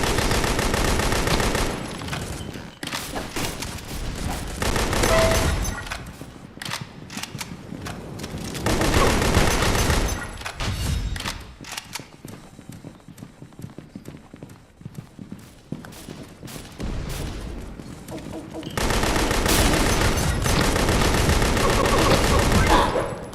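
Bursts of rapid gunfire in the video game Pixel Gun 3D come in several loud volleys separated by quieter stretches with scattered shots and game noise.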